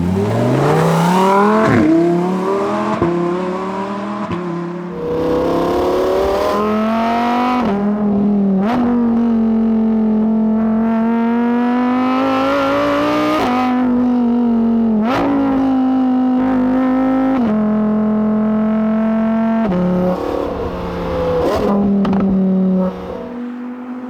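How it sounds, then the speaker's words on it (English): A Lamborghini STO engine screams through repeated hard accelerations while driving, its pitch climbing and dropping sharply at each gear change, loud and close with no one talking. "This week, I have been mostly driving Lamborghinis."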